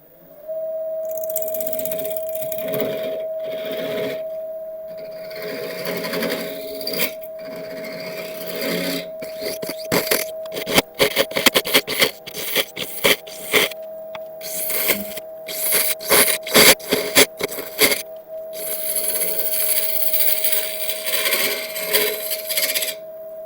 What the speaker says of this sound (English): and then start hollowing that out